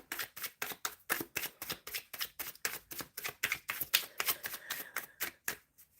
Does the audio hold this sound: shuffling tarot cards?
yes